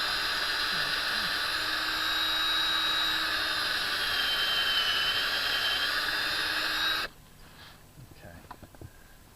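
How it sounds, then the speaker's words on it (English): A power drill bores a hole about 1.5 to 2 inches deep into a tree trunk for tapping, whining loudly and steadily for about seven seconds before stopping abruptly, leaving quiet outdoor background. "So when we drill a hole, we want to keep our drill nice and straight."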